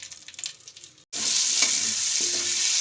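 Bay leaf and five-spice seeds hit hot oil with a sudden loud, steady sizzle after a brief quieter stretch, the frying hiss continuing strongly with faint clicks from the spices underneath.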